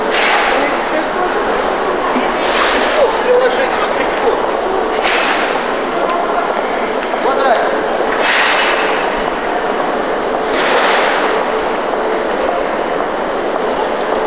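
A ride aboard a Moscow Aeroexpress train, with loud continuous rumbling and rolling wheel noise, periodic bursts of louder rattling and clatter every few seconds, and a steady high-pitched whine above the roar.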